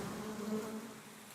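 Honeybees buzzing near a Swiss apiary, a steady, droning hum of several insects close by, unbroken and with no voices.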